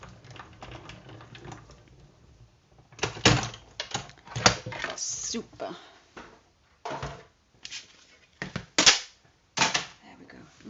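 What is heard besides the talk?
embossing folder run through a die-cutting machine, crashing and banging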